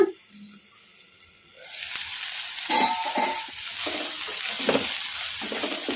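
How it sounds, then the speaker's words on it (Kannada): Cluster beans fry in a pan, first a quiet lull with a faint tone, then a steady close sizzle with stirring scrapes once the lid comes off. "ಚೌಳಿಕಾಯಿ ಚೆನ್ನಾಗಿ ಫ್ರೈ ಆಗಿದಾವಲ್ಲ"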